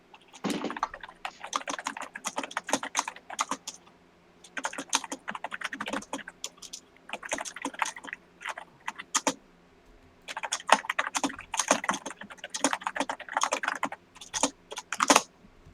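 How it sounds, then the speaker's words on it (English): Rapid bursts of typing on a computer keyboard, close and fairly loud, with short pauses between runs of keystrokes and no one talking. "hear a lot of typing"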